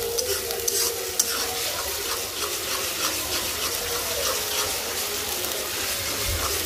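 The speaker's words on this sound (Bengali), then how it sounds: "জিরা বাটা দিয়েও ভালো করে ভাজবো।" Spices fry in a pan with ginger garlic paste and cumin paste while they are stirred. A constant close sizzle carries a scraping, rhythmic stirring texture and a few light knocks, with no voices.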